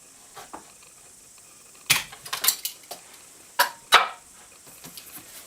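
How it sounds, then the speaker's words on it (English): Utility knife scoring along a Strata vinyl floor plank, a few short scraping strokes with sharp clicks between quiet pauses, close and fairly soft. "all you need to do is score it with your knife"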